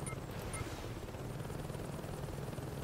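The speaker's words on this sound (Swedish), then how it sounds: "Jag tror det är min helikopter som röker lite." Helicopter flying in the video game Saints Row 2, a faint, continuous rotor chop that holds steady and unbroken throughout.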